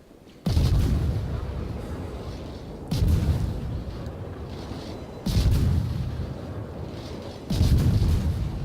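Heavy naval guns fire high-explosive shells in World of Warships at a Chapayev cruiser, four booming salvos spaced a few seconds apart, each a loud sudden blast trailing into a rumbling roar.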